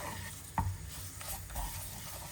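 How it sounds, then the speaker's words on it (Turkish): Tomato paste sautéing in a pan, giving a quiet, steady sizzle with soft stirring scrapes and a single brief knock of a spoon against the pan. "Şimdi içerisine bir yemek kaşığı salça atıyorum ve tekrardan salçayla birlikte bir 30 saniye daha kavuracağım"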